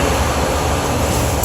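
A studio tour tram rolls through the Universal Studios Hollywood back lot with a steady, loud rumble of motor and wheels that holds continuously, with no talking.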